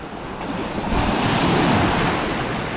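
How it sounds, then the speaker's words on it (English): Big ocean waves surge and break into a small rocky coastal gully, a loud continuous roar of churning surf with wind buffeting the microphone and no talking. "Got big waves coming in."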